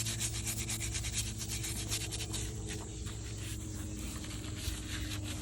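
Brush scrubbing the shell of a rescued tortoise with a little detergent, continuous close rough rubbing strokes at an even rhythm over a low background hum.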